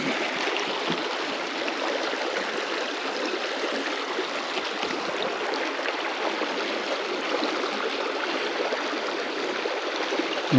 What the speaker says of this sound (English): you wanted to go in the rapids?